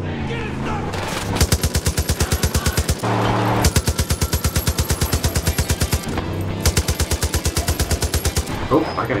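Vehicle-mounted turret machine gun in Far Cry 5 fires in three long, rapid bursts of evenly spaced shots, loud and close, with brief pauses between bursts.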